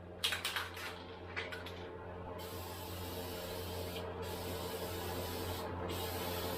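Spray painting a Miata dashboard in pearly white, with a few sharp hissing bursts of spray near the start, then a steady, fairly quiet broadband hiss that continues to the end.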